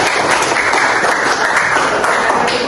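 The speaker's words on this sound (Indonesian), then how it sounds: "Coba diberikan aplaus dulu." A classroom group applauds a student, dense steady clapping from many hands filling the room at a constant level throughout, with no voices standing out.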